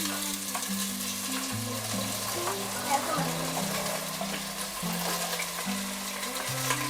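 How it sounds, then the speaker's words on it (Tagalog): Onion or garlic with ginger being stirred in a frying pan, a steady sizzle and scraping under a constant musical background, with a voice briefly present. "Sige, halo-haluin mo."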